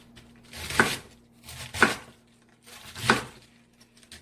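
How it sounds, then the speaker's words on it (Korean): A knife cuts through cabbage on a cutting board in three separate crunchy chops about a second apart, close and fairly clear with quiet pauses between strokes. "양배추는 한입 크기로 너무 얇지 않게 이렇게 도톰히 썰어서 준비를 해주시고"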